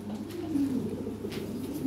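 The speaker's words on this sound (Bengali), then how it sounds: "এই যে এখানে এক জোড়া হলুদ লাহরি আছে" A pair of yellow Lahori pigeons coo softly and steadily at close range, their low rolling calls carrying on without any voices over them.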